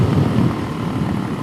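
Suzuki DRZ400SM with a Yoshimura exhaust idling nearby, a brief, steady low rumble that stays even from start to finish with no voices.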